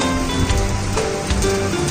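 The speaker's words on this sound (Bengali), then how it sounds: "দেখেন প্রচুর বৃষ্টি এবং সেই সাথে বাতাস" A heavy rainstorm driven by strong wind blows in through a window at dusk after intense heat, a loud, dense wash of rain close by.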